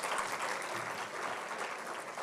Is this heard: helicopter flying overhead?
no